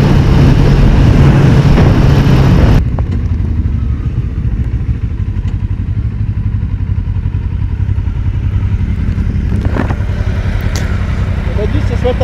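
A 125 cc motorcycle engine drones steadily while riding, loud and close at first with heavy wind rumble, then a lower, continuous engine hum with faint clatter for the rest of the ride.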